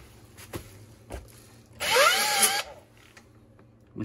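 Honing machine bringing a part down toward finished size, a brief loud whirring, grinding burst close by that lasts under a second, with quieter knocks and handling sounds before and after.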